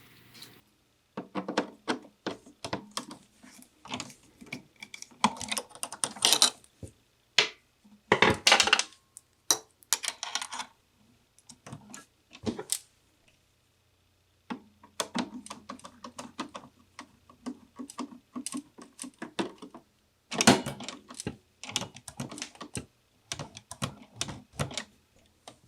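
Rapid bursts of sewing machine stitching through several fabric layers for a collar with stand, using a finishing foot, in stop-start runs separated by short pauses, close and fairly loud, with no talking.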